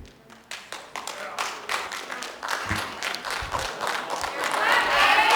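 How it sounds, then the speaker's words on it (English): An audience at a public assembly meeting bursts into scattered claps that swell into dense applause with shouts and cheers, building louder toward the end, with a voice speaking over it. "Please, everybody, refrain from clapping and shouting."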